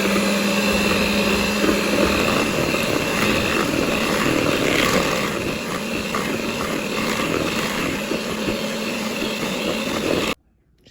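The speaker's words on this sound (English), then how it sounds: "now I'm just going to mix on low until everything is nice and smooth" An electric mixer runs on low speed through crêpe batter in a Ninja Foodi bowl, a steady loud whirring drone that continues unbroken before cutting off abruptly at the end.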